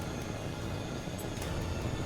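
A train rolls past in the H.A.W.X 2 video game, a steady, broad rumbling roar with no breaks, fairly loud and alone.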